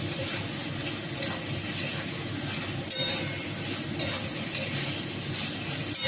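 Potatoes and pointed gourd dropped into a pan of fried spices, a steady hiss of sizzling oil with occasional soft knocks of a stirring utensil, no speech.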